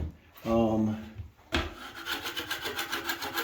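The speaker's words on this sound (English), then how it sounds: "I want to run my tape knife over some screws and check the depth" A short voiced sound is followed by a drywall tape knife dragged repeatedly over drywall screws, a rhythmic, gritty metal scraping, close and moderately loud.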